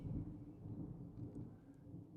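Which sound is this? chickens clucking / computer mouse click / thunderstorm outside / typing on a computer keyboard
thunderstorm outside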